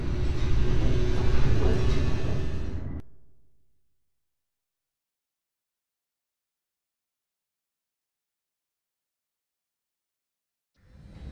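An elevator plummets downward in The Stanley Parable video game as a loud, heavy rumbling roar for about three seconds, then cuts abruptly to silence before the rumble briefly returns at the very end.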